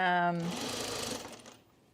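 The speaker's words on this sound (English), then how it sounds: "So I'm just sewing my pockets together, right sides together" A sewing machine stitches quilted jacket pockets together with right sides facing. A close, rapid mechanical whir runs for about a second and a half, with a voice talking at the start.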